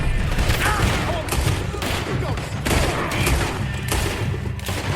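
Dense, continuous gunfire in the western video game Red Dead Redemption, booming shots overlapping into a steady loud barrage with game voices faintly mixed in.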